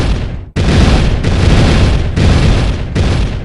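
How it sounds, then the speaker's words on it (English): In the video game Bloons TD 5, Hydro Rocket Pods fire rockets in a series of loud, dense, booming bursts, roughly four back-to-back blasts with brief drops between them and no talking. "with the Hydro Rocket Pods we could do better. So now, instead of that, we fire rockets"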